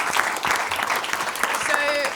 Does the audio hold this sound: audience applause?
yes